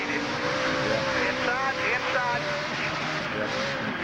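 A 2004 NASCAR Craftsman Truck Series race truck engine revs hard, its pitch climbing and dropping, with voices talking over the steady mechanical roar.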